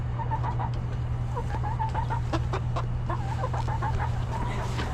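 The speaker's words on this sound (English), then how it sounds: "so those are the chickens" Backyard chickens, fully grown laying hens, cluck steadily in a flock, with soft repeated calls close by over a constant low hum.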